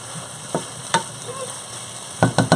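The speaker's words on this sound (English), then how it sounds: "This looks like saute" Vegetables for Filipino pinakbet, including bittermelon and eggplant, cook in a pan with a soft background sizzle, punctuated by a few sharp scraping stir knocks, with a quick cluster of clatters near the end.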